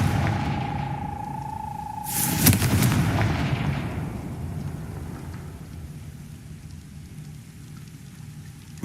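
A Confringo blasting spell in the Hogwarts Legacy game goes off as a sudden loud burst, following a steady magical tone, then trails into a long rumbling, crackling decay like falling debris, with no speech.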